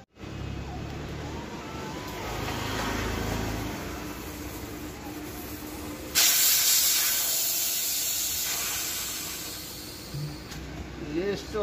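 Air hisses steadily from a punctured vehicle tyre, a loud continuous rush that swells partway through while voices talk nearby.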